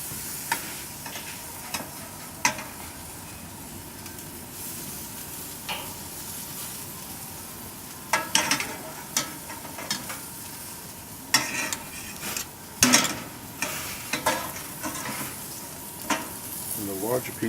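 Fresh eel steaks sizzling on a barbecue grill, a steady close hiss with scattered pops and sharper crackles as pieces are laid down, growing busier toward the end.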